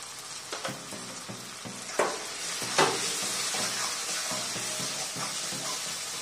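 Green chickpeas with red chilli, turmeric and coriander powder stirred in a pan, soft continuous sizzle broken by spoon scrapes and taps against the pan.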